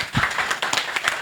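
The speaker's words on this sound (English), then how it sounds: "Now you've clapped for all of them." An audience at an innovation summit claps in a brief, moderately sparse round of applause, individual claps distinct and close.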